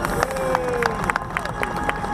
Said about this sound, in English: They can hear you clapping and cheering, so please make sure you're as loud as possible for the drivers